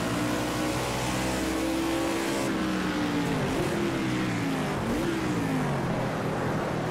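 A 3,500-pound NASCAR stock car in Project CARS 2 on the Sonoma layout revs hard out of a corner, its engine note climbing and dipping through gear changes, loud and continuous with no talking.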